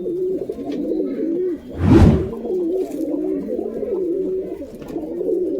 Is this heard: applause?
no